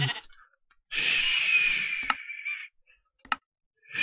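Sheep in a video game custom map bleat in two long, nasal calls, the first drawn out and the second shorter, with clicks and short gaps of near silence between them.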